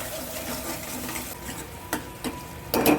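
Red chilli, coriander-cumin powder and garam masala being stirred into an oily dal fry masala in a pan, a soft continuous sizzle broken by a few spoon scrapes near the end, no talk.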